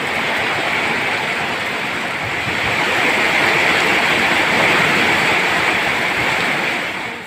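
A dense, steady roar of heavy rain pouring down, broadband hiss with no pauses, loud and continuous throughout.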